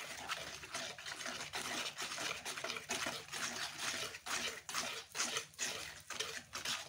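Vanilla essence is stirred into whole wheat cake batter in a bowl, a steady run of soft wet scraping and swishing strokes that is close up and faint.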